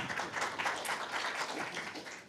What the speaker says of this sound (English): Give them another round of applause, ladies and gentlemen.